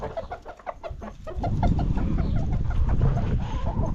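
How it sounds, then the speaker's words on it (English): Several chickens cluck and squawk close by in a farmyard, a busy overlapping chorus of short calls that grows denser and louder after the first second or so. "Chickens are annoying, but they're kind of funny sometimes."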